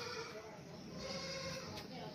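A purebred two-toothed goat with a dewlap, being sold for Qurbani, bleats in a steady, close, drawn-out call with no other voices.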